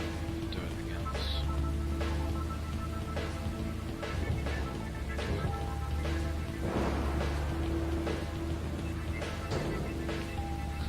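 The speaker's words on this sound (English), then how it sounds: "So now it's raining" Steady rain falls in the video game Deadly Premonition, a constant hiss with scattered drops and a low hum beneath, while faint gameplay sounds come and go.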